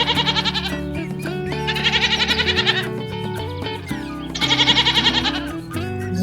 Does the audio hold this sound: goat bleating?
yes